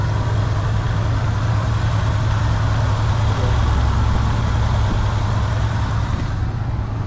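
Big 7.0 liter V8 in a 1979 Cadillac Coupe Deville idling smooth and steady, a continuous low close rumble running without a break.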